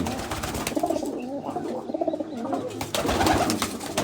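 A pigeon perched on a rooftop coos near and loud in repeated soft throaty phrases, with a little rustling and background noise between the calls.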